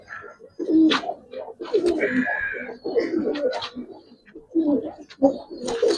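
Giribaz and Pankhi pigeons cooing close by in several overlapping bursts, soft throaty coos with brief pauses between, plus a few sharper calls.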